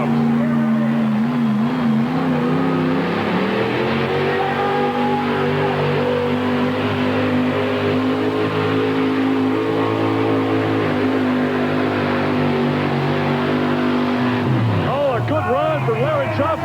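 A 1972 pulling truck's heavy engine roars steadily at high revs at a 1991 truck pull in Rock Springs, Wyoming, its pitch climbing as it strains, then shifting abruptly near the end; a crowd and announcer murmur underneath.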